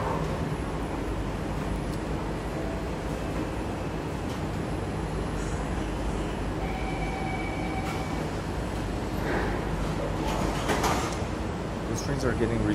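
Steady rumble of a metro train pulling away in Singapore, with a rising motor whine and faint squeals over constant broadband noise, a voice speaking faintly beneath.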